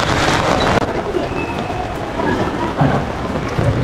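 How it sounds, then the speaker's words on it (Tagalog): Steady rain pours down during a typhoon, a loud dense hiss of falling water with a few sharper gusts and splashes, no voices. "Ito, nag-umpisa ng umulan."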